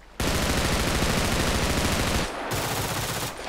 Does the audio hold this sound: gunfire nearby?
yes